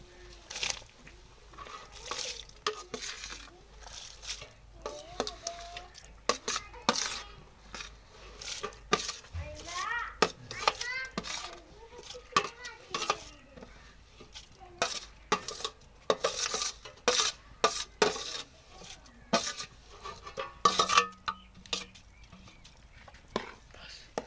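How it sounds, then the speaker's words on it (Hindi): A utensil scrapes and clinks against a cooking pot in irregular strokes as rice is stirred into boiling water, with soft knocks and faint sizzling underneath. "चावल डाल के इसको हल्का सा आपने हिलाना है"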